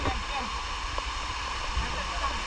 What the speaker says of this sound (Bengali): এটা কিন্তু আর একটা ঝর্ণা